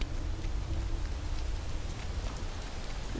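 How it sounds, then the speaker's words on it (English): Rain falls steadily as a close, even patter with scattered distinct drops, continuous throughout with no voices. "And it's raining."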